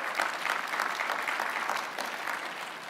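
An audience at the SRLC breaks into steady, dense clapping that holds evenly for about three seconds, with no voices over it.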